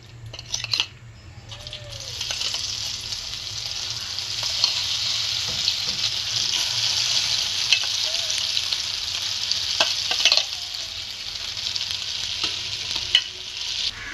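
Masala-coated idli pieces fry in oil with a continuous, close sizzle, broken by occasional stirring clatters and a knock near the start.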